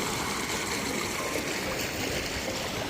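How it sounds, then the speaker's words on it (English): A seasonal creek running strongly at a campsite near Big Bear Lake gives a steady, dense rush of flowing water, close and unbroken. "It says it's a seasonal stream, but it's flowing strong right now."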